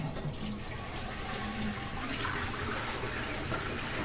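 A toilet flushes nearby, a steady rushing of water that keeps running evenly as the bowl refills, with no talk over it.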